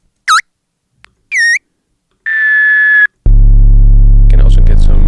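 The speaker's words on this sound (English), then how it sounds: "you create a feedback loop, so you get all kinds of harsh," A no-input mixer run as a feedback loop gives harsh tones shaped with EQ, heard alone and loud: short whistling chirps, a held piercing tone, then a dense buzzing drone with rough upper noise.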